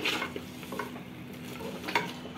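Goat trotters sautéed in a masala mixture in a pot, a quiet continuous sizzle with occasional soft scrapes and knocks of a stirring spoon.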